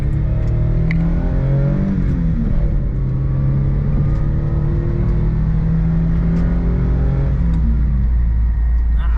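A Mitsubishi Bravo kei van, just fitted with a new fuel filter, accelerates hard around a block. Its engine drone climbs steadily in pitch, then eases and rises again, loud and close inside the cab with a constant road rumble beneath.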